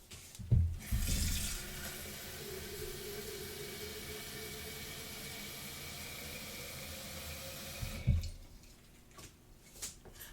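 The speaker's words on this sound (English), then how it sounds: "I just actually took a little side pause there to fill up this jar with water" Tap water running steadily into a jar in a kitchen, a close, even gushing stream lasting several seconds, starting and stopping with soft clunks and handling noises.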